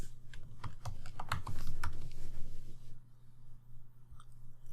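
Close typing on a computer keyboard, a quick burst of crisp keystrokes over a steady low hum, then quieter near the end.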